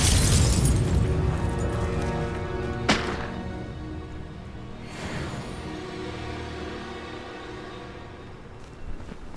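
Fiery Confringo spell explosions in the Hogwarts Legacy video game: a loud, broad booming burst at the start fading into rumble, a sharp blast near three seconds and another around five, with a small pop at the end.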